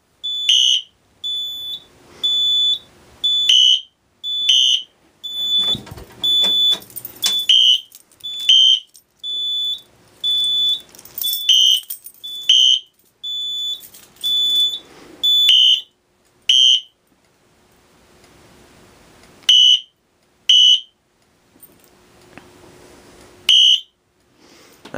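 A Pyrotronics System 3 fire alarm sounds during a floor system test, giving sharp, high electronic beeps in short repeated bursts, loud and close, with longer gaps toward the end and no talking.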